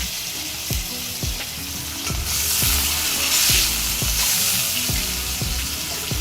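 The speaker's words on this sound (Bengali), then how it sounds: "এবার দিচ্ছি আলু এই যে ডুমো ডুমো করে কেটে রাখা আলু" Diced potatoes fry in a pan with a loud, crackling sizzle, broken by regular scraping strokes as they are stirred, about one every half second.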